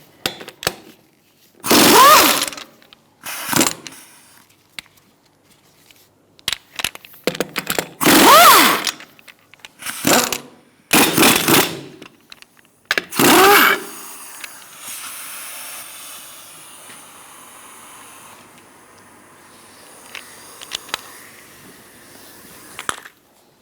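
Rear wheel coming off a 2002-2006 Toyota Camry with a 21mm socket: several loud, hissing bursts of an impact wrench spinning lug nuts, spaced by pauses, followed by a quieter stretch of clatter and handling noise.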